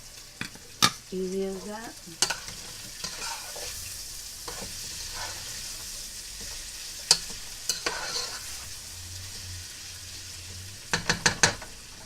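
Minced garlic sautés in hot oil in a pan for Filipino pork afritada, a steady sizzle broken by sharp metal clicks and scrapes of a utensil, with a brief spoken remark.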